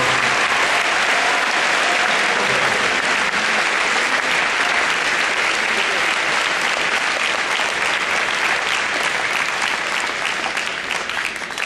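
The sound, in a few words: audience applause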